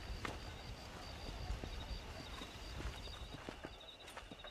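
Horses' hooves clip-clopping in the Red Dead Redemption video game, a faint, irregular patter of hoof strikes over soft background ambience, heard without talk.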